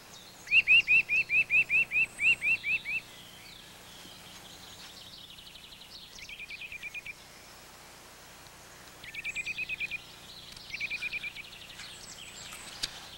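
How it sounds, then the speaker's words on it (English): Rapid chirping calls near a black woodpecker's nest hole in the Gran Paradiso mountains, a clear run of evenly spaced notes followed by softer bursts of trilling calls over faint background hiss. "This male black woodpecker has been sitting on eggs, but soon the female will come to replace him"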